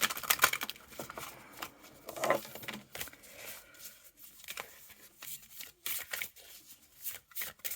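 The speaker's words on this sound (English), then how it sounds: "They shuffle really nice, actually." A small Pure Magic oracle deck is shuffled by hand, producing soft, irregular riffling and patter of card edges in quick bursts with brief pauses, close and fairly quiet.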